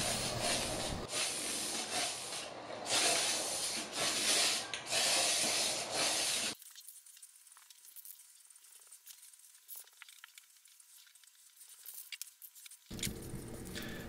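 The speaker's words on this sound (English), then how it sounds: "now we're going to apply and spray some black paint on it." Loud hissing bursts of black aerosol spray paint come in several long sprays onto a vintage bar cart, then a quieter stretch of rustling and handling noises before the hiss returns.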